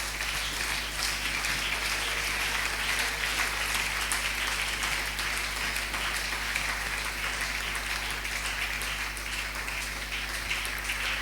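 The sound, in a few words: church congregation applauding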